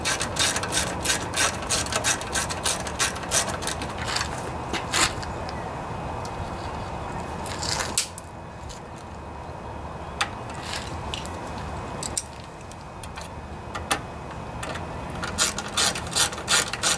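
A ratchet tightens the gas tank bolts back onto a lawnmower that has been repaired for a bent blade and sheared flywheel key, giving rapid close clicking in bursts with brief pauses between them.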